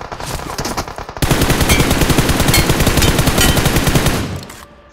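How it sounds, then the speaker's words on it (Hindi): Loud, rapid automatic gunfire from the video game BGMI/PUBG, a sustained burst of shots that cuts off abruptly, preceded by scattered shots. "इस फायरिंग में आप सुनो भाई टिंग की आवाज़ कैसी आती है"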